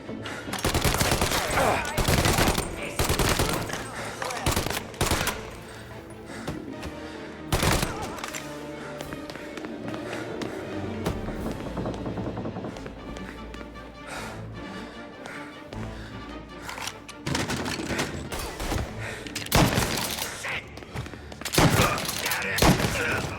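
Bursts of automatic gunfire and rapid shots echo through a shootout in Mafia Definitive Edition, loud and dense, with dips between volleys and shouted voices briefly heard amid the firing.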